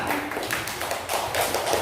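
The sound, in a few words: students clapping hands in class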